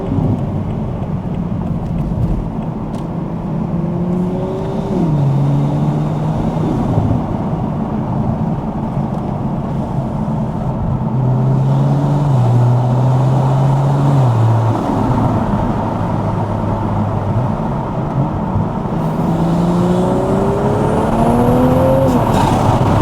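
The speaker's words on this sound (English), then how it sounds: "give them a bit of exhaust now, give them a little bit of noise" GR Supra with a titanium exhaust and ARMASPEED intake revving through a village at night, its engine note rising and falling in repeated sweeps over a steady loud rumble, heard from inside the car with no talk.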